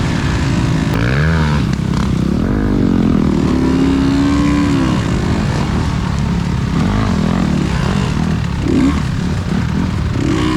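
An off-road trail motorcycle engine at a Valley Trail Riders event, running loud and close in a tight pinch point, with wavering revs and changing pitch over continuous rumble and clatter.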